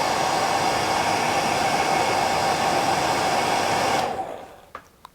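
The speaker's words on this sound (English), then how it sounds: "And a wee quick blow with the hairdryer." A hairdryer blows steadily on a marabou fly-tying lure, a loud even hiss for about four seconds before it cuts off and winds down, followed by a few faint clicks.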